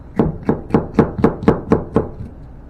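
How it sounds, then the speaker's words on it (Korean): A knife slices a green bell pepper into thin strips on a cutting board for a jellyfish salad, making eight crisp, evenly spaced chops, close and loud, then stopping. "그러니까 안에서부터 채를 치세요"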